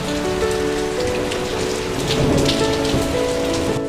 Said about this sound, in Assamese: ঠিক কিছু সময়ৰ পাছতে বৰষুণৰ লগত বতাহৰো আগমন ঘটিল